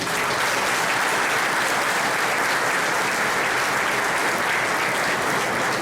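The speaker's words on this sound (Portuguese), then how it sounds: "a quem eu peço uma salva de palmas" A crowd at a club's official inauguration ceremony claps steadily for a departing council president, a dense, even wash of applause that holds at full strength without pause.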